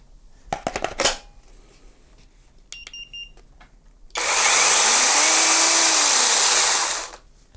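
A Leader 20V 10-inch Optimal cordless battery chainsaw revs up loudly and runs steadily for about three seconds close by, then winds down, after some earlier clicks and handling knocks.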